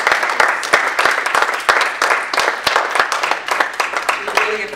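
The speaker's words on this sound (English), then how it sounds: "Let's give another round of applause to Dr." Sustained crowd applause for Dr. Ajani Ross: dense, even clapping from an audience at a talk, loud and continuous throughout with no gaps.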